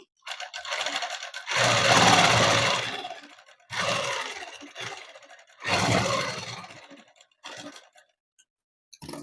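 A sewing machine stitches seams on a child's dress for a 6 to 7 year old, sewn from a saree, running in three long close bursts separated by brief pauses, with a short final run near the end.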